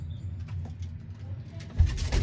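Pigeons of a prized old bloodline coo in a loft, low repeated throaty calls near and steady, with a louder burst toward the end.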